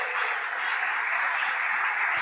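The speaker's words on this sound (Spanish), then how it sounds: "Den un aplauso al Rey de Gloria" A congregation claps during a Spanish-language sermon, a steady, continuous wash of applause that sounds somewhat muffled and band-limited.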